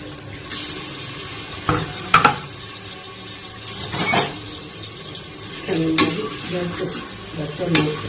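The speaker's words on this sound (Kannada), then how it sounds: "ಈರುಳ್ಳಿ ಒಳಗೆ ಫ್ರೈ ಆಗಲಿ" Onions frying in oil for the tempering of a grandmother-style chicken sambar, with soft sizzling, intermittent stirring scrapes and a few louder clinks of a utensil against the pan, close by.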